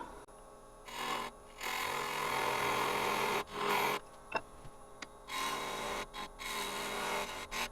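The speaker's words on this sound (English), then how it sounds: "We'll use our box scraper for that again." Box scraper shaving wood on a spinning lathe while turning a wooden canteen flask, giving sustained raspy scraping passes broken by short pauses, fairly close and without talk.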